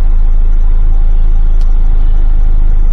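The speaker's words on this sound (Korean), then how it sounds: "이 진동 소음 들어보시고" A car engine idling in neutral with the brake held after an oil and transmission additive treatment, giving a steady, continuous low rumble and vibration hum at close range for the whole stretch, with no talk.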